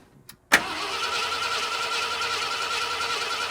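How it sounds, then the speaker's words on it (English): A 1972 Ford F250 camper special with a 390 V8, parked since 2007 and suspected of a failed fuel pump, cranks without starting: a sudden onset after a quiet moment, then a steady, even, close churning drone. "And then let it crank a little bit."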